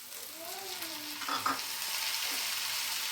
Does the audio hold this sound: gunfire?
no